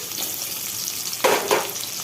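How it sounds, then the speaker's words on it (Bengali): Pumpkin and papaya fry in oil with a constant low crackling sizzle, and two louder bursts of spatter come close together near the end. "এবার এগুলো ভেজে নেব।"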